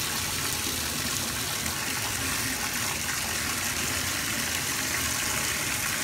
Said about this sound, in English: she's gonna flip on the water and get some bubbles